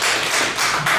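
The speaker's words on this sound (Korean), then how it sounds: "이장훈님 박수 한번 보내주시죠." Applause from a seminar audience during a speech class, a short burst of hand claps that is loud and close, made of quick overlapping taps.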